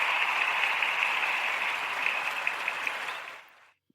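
Steady applause from a group of people, a dense even wash of claps that holds for about three seconds and then fades quickly into silence.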